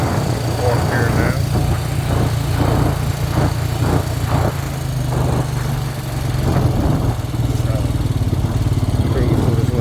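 Honda Rancher ATV engine running steadily in fourth gear during a road ride, a loud continuous drone with a persistent low hum beneath brief pulses, while a rider talks over it.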